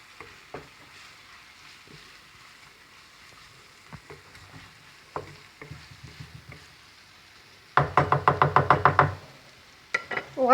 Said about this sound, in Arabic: وغادي نحركوا جميع التوابل كلهم باش ينسجموا بعضياتهم